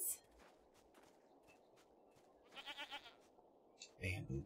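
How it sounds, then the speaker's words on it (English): Goats bleat in the video game Jade Empire: a short run of quavering bleats in the middle and another louder burst at the end, over soft footsteps and quiet background ambience. "Goats!"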